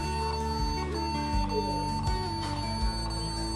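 A laptop powering on but failing to load its operating system gives steady electronic tones that sound like repeated beeps, loud and close throughout with no talking.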